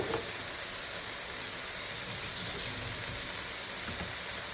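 Chawli (amaranth) greens being stirred and sautéed with salt in a hot pan, a constant dense sizzle and hiss filling the whole moment without break, with faint scraping underneath.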